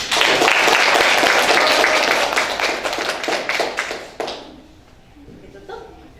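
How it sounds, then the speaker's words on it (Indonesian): A classroom group of students and teachers at a university teaching-practice session applauds a group presentation, with loud dense clapping for about four seconds that then fades, voices faint underneath. "Beri tepuk tangan."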